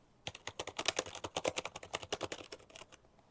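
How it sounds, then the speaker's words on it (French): Close-up typing on a standard G-Lab computer keyboard, a steady run of about two dozen crisp keystrokes in quick rhythm with no voices. "On va prendre un clavier classique que j'ai de chez G-Lab."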